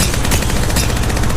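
Rapid automatic fire from the Devotion gun in Apex Legends Mobile rattles out as a steady, loud stream of closely spaced shots with no pauses.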